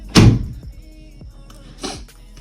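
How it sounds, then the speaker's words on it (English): A door in a home thumps shut with one loud, close knock, followed by a fainter second bump about a second and a half later. "Close my door."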